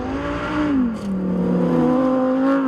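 Lamborghini Huracan Sterrato engine held at steady high revs during a drift, a continuous loud droning tone that dips briefly and then climbs again, heard close with no talk.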